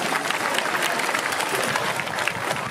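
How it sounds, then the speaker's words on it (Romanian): Dense, sustained crowd applause outdoors at a Roman festival in Alba Iulia greets reenactors of the Sixth Legion Ferrata, a steady wash of many hands clapping throughout. "le aplaudăm și pe ei"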